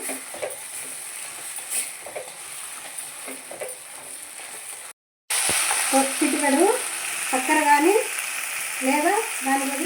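Broad beans and tomatoes fry in hot oil for a tangy Telugu-style curry, giving a steady close sizzle with scraping stir strokes. A short gap of silence falls midway, and the sizzle comes back louder.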